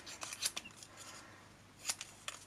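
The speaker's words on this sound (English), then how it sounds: "So I'm just going to cut these out." Scissors snip through small paper florals in a few quick, crisp cuts, close and fairly quiet, with a short pause before a final pair of snips.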